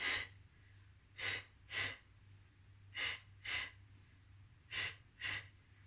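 Forceful exhales during a home exercise workout, seven breathy puffs in pairs at a steady rhythm, close and clear over a low hum.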